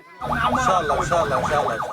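Ambulance siren wailing loudly and continuously, its rising and falling sweep repeating steadily after a brief quiet start, in the aftermath of a catastrophic earthquake.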